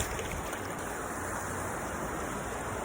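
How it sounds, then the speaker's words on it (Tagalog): Strong sea waves near a rocky shore in Batangas, a faint, steady wash of surf with broadband hiss and light wind, continuous throughout with no talking. "Malakas yung alon dito."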